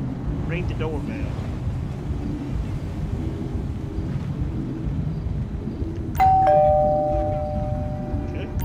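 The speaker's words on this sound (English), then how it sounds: "Ring the doorbell." A two-tone electronic doorbell chime rings once in Grand Theft Auto 5, clear and sustained, over a steady low rumble of background noise.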